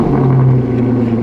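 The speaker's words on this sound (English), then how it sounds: "every cold start since I've been here just sounds so good" A loud, deep car exhaust with a Velocity AP aftermarket system rumbles close by in a brief, steady burst, as if idling high just after a cold start.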